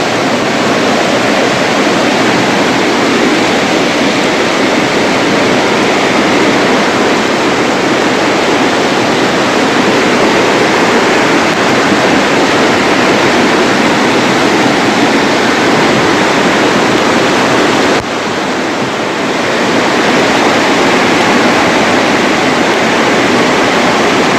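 A swollen, flooded river rushes loudly and continuously over submerged large stones, a dense roaring torrent that fills the whole stretch with only a brief dip near the end.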